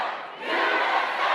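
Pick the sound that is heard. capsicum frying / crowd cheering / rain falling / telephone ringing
crowd cheering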